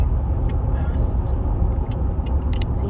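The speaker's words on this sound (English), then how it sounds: "bumper to bumper traffic on the highway" Bumper-to-bumper highway traffic heard from inside a car, a continuous low road rumble with brief hissing passes from other vehicles, while someone talks over it.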